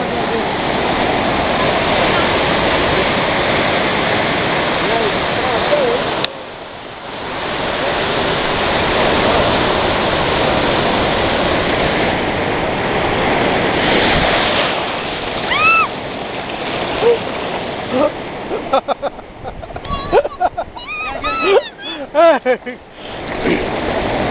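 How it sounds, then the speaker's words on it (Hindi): Sea waves wash in and out at Puri beach in a steady, loud rushing roar with a brief lull partway through, and voices and chatter come through near the end. "देखो पानी आ रहा है, पानी जा रहा है"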